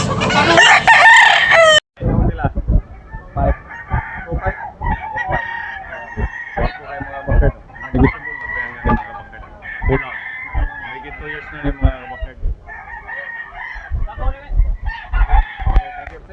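A red rooster, about two years old, crows loudly and close in a backyard, with a sharp burst at the start followed by clucking and further calls while people talk nearby.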